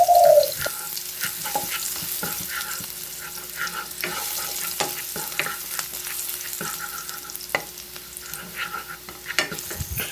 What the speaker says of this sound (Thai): ตั้งกระทะใส่น้ำมันเล็กน้อยเลยครับ ใส่กระเทียมลงไปผัดให้เหลืองหอมก่อนครับ